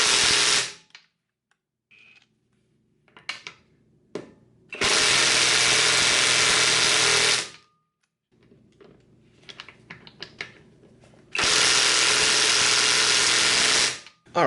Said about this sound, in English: the impact wrench was not able to remove the studs on the tire